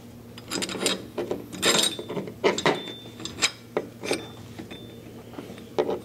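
Metal parts click and clack as the front sight is refitted onto a Madbull Dragonfire RIS rail on an airsoft rifle, a string of close, irregular taps and scrapes with brief pauses between them.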